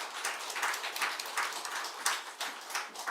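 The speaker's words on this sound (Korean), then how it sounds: "박수로 환영하겠습니다" Audience applause in a church welcoming a guest speaker to the front, a steady wash of many hands clapping at moderate distance, fairly quiet and even throughout with no voices over it.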